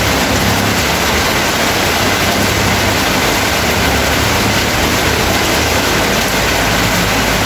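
Heavy rain pours in a loud, steady, unbroken roar that drowns out everything else.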